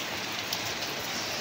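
Heavy rain pours down outdoors, a loud, dense, unbroken hiss of drops hitting surfaces that fills the whole moment with steady intensity and no talking.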